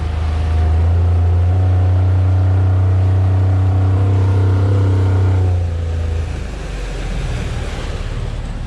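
A boat engine roars loudly at wide open throttle yet barely moves the hull, a steady droning hum with strong low harmonics that holds for several seconds, then drops to a rougher, wind-buffeted rumble near the end.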